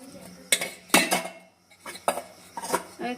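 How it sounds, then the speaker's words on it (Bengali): A metal karahi set down on a kitchen stove with several clanking metal knocks, sharp and close, spaced irregularly over a few seconds. "আমি এখানে কড়াটা বসিয়ে দিচ্ছি"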